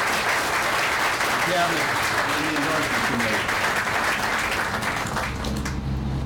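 Audience applause at an annual meeting and leadership center groundbreaking event, a dense steady clapping from a crowd under a speaker's voice, fading near the end.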